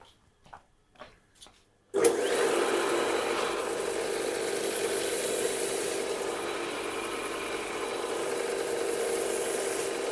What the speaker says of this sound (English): I'm just going to grind around it and see how it comes out